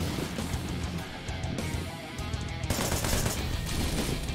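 Rapid automatic gunfire crackles in dense, continuous bursts during a run-and-shoot action sequence in the game Wanted: Dead, loud and close with no pauses.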